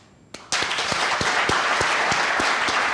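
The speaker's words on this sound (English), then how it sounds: "Can you clap your hands?" After a brief quiet moment, a conference audience bursts into clapping on request. The applause is loud and close, with sharp individual claps standing out over the dense clatter of the crowd.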